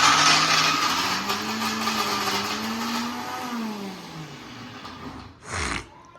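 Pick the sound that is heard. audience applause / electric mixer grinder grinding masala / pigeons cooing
electric mixer grinder grinding masala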